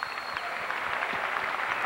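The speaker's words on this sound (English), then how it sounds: "Collins gets a standing ovation from the crowd" Crowd at a 1985-86 college basketball game between Cleveland State and Eastern Illinois applauding in a standing ovation for player John Collins, a steady wash of clapping heard from a distance with a faint voice underneath.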